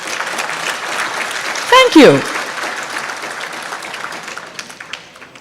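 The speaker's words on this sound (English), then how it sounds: "Everyone who comes to the stage deserves a massive round of applause" A roomful of people applauds a staff award winner at a staff awards ceremony, with steady clapping throughout and a voice briefly speaking partway through.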